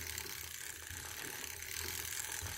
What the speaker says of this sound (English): I've got this old sock machine working. Listen to this, it just sounds so lovely.